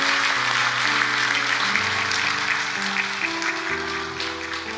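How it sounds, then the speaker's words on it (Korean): A church congregation claps to bless two babies at a Sunday service. The warm, sustained applause runs under soft instrumental chords playing in the background. "우리 박수로 한번 축복해 줬으면 좋겠습니다."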